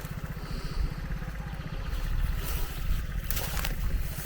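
A tractor's steady, low diesel engine chugging with a continuous rumble, fairly close, with some wind noise and no talking.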